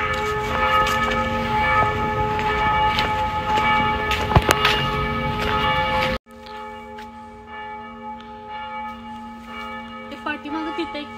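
Church bells ring from a church across the street in a town with a church on every street, a loud, sustained clang with repeated strikes that cuts off abruptly halfway, then fainter ringing continues with faint talk in the background.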